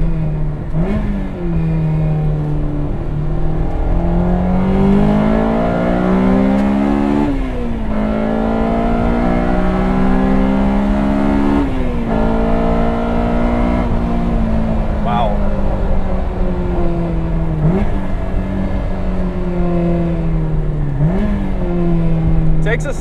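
A Honda F20C four-cylinder engine swapped into a Toyota AE86 revs loudly from inside the cabin, its pitch climbing and falling through repeated pulls and gear changes, with someone talking over it throughout.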